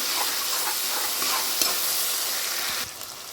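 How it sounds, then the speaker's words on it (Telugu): Prawns frying in a hot pan with a steady, dense sizzle and occasional stirring clicks, close and continuous, easing slightly near the end. "చక్కగా వేయించుకొని గోల్డెన్ బ్రౌన్ కలర్ వచ్చేదాకా వేయించుకోవాలి ఫ్రెండ్స్"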